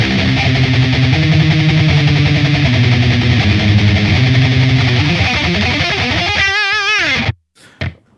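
Heavily distorted electric guitar played through a Line 6 rig for metal tones, sustained chords shifting pitch for about seven seconds, loud and alone, then cut off abruptly with a short final burst.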